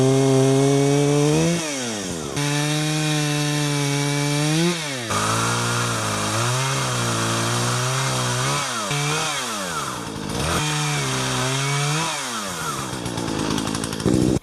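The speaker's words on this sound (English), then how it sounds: "Chainsaw works pretty good." A running chainsaw cuts through dead wood at close range, its engine droning loud and steady for the whole stretch with repeated rises and falls in pitch as the chain bites and the throttle eases between cuts.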